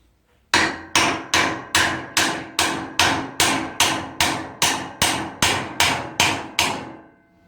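A hammer strikes a stubborn car CV joint in a workshop about fourteen times in a steady, forceful rhythm, each blow ringing sharply and close by.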